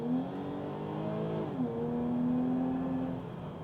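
A Jaguar XE R-Sport with a supercharged 3-litre V6 and sporty exhaust revs up, its engine note rising and dipping briefly before settling into a steady strained tone, heard alone from a moderate distance.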